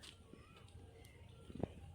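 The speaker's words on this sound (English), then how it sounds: "All kinds of birds, lots and lots of birds around here" Birds calling around a street in Port Klang, Malaysia, including soft dove-like coos and scattered chirps at a distance, over quiet outdoor background hum, with one brief louder knock near the end.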